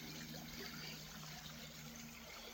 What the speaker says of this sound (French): Avec un petit ruisseau à côté.